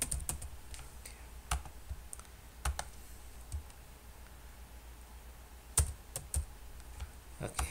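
Typing on a computer keyboard while filling out an online visa application form, heard as scattered key clicks and small bursts of rapid tapping at close range, spaced by short pauses, against a quiet background.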